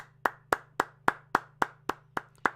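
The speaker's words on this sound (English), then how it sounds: "a round of applause from me" Slow, steady hand clapping from a single person, about nine evenly spaced sharp claps, close and clear over a faint low hum, offered as a round of applause during a live UFC fight watch-along stream.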